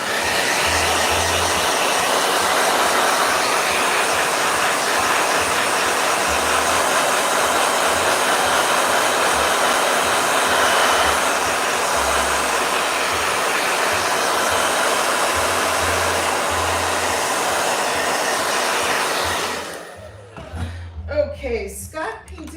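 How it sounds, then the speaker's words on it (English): Hair dryer blowing continuously at close range, a steady loud broadband whoosh for about twenty seconds before it shuts off, with faint sounds afterward. "Blow dryer."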